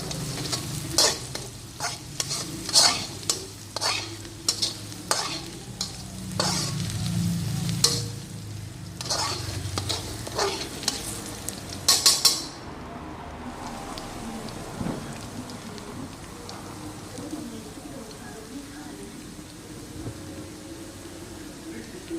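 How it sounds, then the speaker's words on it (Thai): Garlic frying in hot oil in a wok, with a soft bubbling sizzle under repeated sharp scraping strokes of a spatula for about twelve seconds, after which the scraping stops and only a quieter crackling fry carries on alone. "เจียวกระเทียมให้หอมๆครับเพื่อนๆให้น้ำมันของกระเทียมเขาออกหอมๆ"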